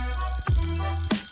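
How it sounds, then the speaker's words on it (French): An alarm clock rings in a bedroom with a steady electronic tone, broken by two short swooping bursts. It is fairly loud and close, with no voices. "Oh, le réveil."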